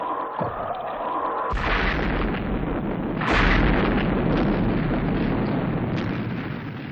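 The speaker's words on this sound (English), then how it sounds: "You've got to get that nose cone clear by firing the missiles." Missiles fire at a stuck rocket nose cone on a Mars rocket in a puppet sci-fi rescue drama, producing two loud booming blasts that swell into a sustained roaring rumble.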